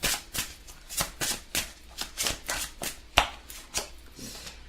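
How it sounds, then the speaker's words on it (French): Tarot cards are shuffled by hand in a quick, uneven series of soft riffling bursts, close and fairly quiet, with no talk. "Alors, je vais remélanger."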